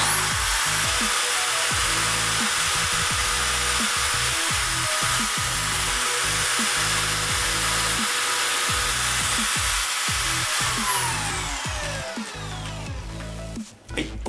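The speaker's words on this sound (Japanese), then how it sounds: "よし、ではこの状態で端っこに穴を開けます。" A drill runs loud and steady while boring a through hole near the edge of a homemade push block jig, with grinding and rumbling, then winds down near the end.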